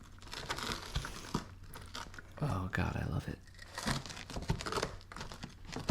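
A bite into a crisp-crusted eggplant parmesan pizza with three cheeses, baked on a pizza steel and finished under the broiler, gives short crunchy crackles between bursts of close, eager talk.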